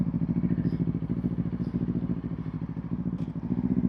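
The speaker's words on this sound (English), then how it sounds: "Turn the bike back on." A Kawasaki Ninja 500 motorcycle engine idles steadily up close, a low, even throbbing rumble with a faint rattle, continuous and alone with no voices.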